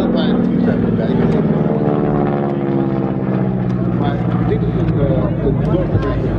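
Piston engine of a North American AT-6A Texan (Harvard) trainer during a flying display at an airshow in Ede, with a steady, loud droning hum and rising and falling harmonic tones that fill the whole stretch.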